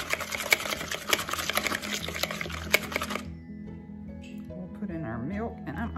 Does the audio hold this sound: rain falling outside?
no